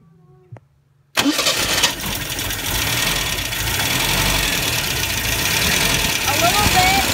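A 1976 MGB Roadster engine cranks and fires after a fuel filter change, then settles into a loud, steady close-up idle. Before it catches, a person speaks briefly.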